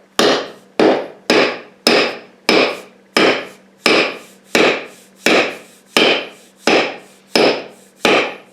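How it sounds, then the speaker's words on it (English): About a dozen sharp, evenly spaced knocks ring out as the end of a double bit axe handle is struck against concrete to seat the head, each impact loud and close with a brief woody decay. "just lift up and have the bottom of our handle hit concrete or something really hard to make sure it seats down all the way"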